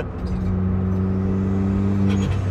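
A Honda Brio turbo car engine hums steadily at raised revs with a loud, even drone, then the pitch drops briefly near the end. No one speaks.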